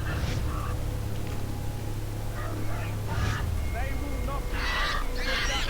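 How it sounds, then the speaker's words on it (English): A caged bird in the Far Cry video game squawks and honks in several short, harsh bursts over steady low game ambience, with a louder cluster of calls near the end. "They've got this bird in a cage."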